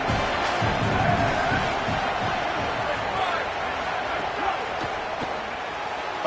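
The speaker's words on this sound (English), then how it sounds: "Crowd getting this defense whipped up on 3rd down." A football stadium crowd roars on third down at an Ole Miss versus Central Michigan game, a broad, sustained wash of cheering and noise with a commentator's voice running over it.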